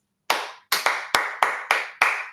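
Hands clapping a simple rhythm in a classroom percussion setting, six or seven sharp, close claps in an uneven pattern, crisp and alone with no voices.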